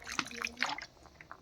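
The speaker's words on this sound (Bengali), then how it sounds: "জলটা দিয়ে দেবো। এই যে জলটা দিয়ে দিলাম।" Water is added to a Bengali chicken curry in a pot, giving a few soft, close splashes and drips spread over a brief moment, quiet and without speech.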